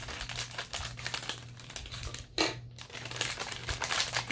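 Crinkly rustling and crackling of plastic packaging being handled and cut with scissors, with a brief louder crackle partway through.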